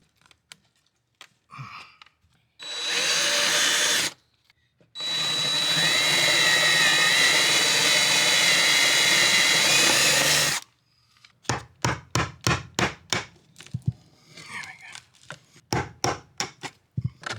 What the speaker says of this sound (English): I think I drill a few holes and just break it away.